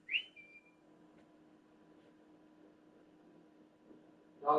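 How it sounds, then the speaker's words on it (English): A person gives one short, sharp whistle to get a dog's attention. The quick rising note comes right at the start, followed by a low, quiet hum. "Dogs like a good whistle."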